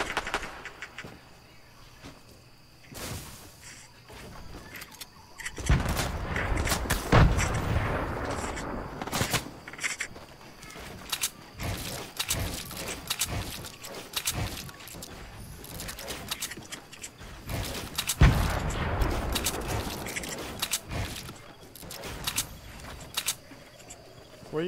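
Gunfire in Fortnite, with sharp scattered shots and bursts, some loud and close and others farther off, breaking over a quiet background with faint insect-like chirps.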